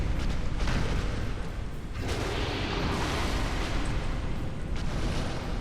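Chaos Witch Quelaag unleashes a fire attack in Dark Souls. The result is a dense, loud roar of flame and blasts that runs continuously for several seconds, with a few sharper bursts and no voices.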